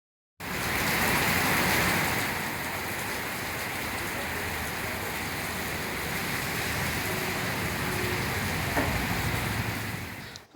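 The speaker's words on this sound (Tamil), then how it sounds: "பாதி வழியிலேயே நல்லா மழை பிடிச்சிருச்சுங்க." Steady rain pours down outdoors on a road trip, a dense, even hiss of drops striking surfaces that holds constant and fairly loud throughout, with no voices.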